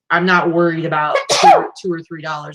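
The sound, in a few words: sneeze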